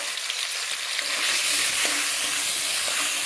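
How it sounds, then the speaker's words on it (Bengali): Marinated chicken, about 150 grams, frying in hot oil for a Bengali ghugni, a loud continuous sizzle and crackle close by, with a brief stirring knock partway through. "ম্যারিনেট করে রেখেছি সেই মাংসটাকে ফ্রাই করতে হবে"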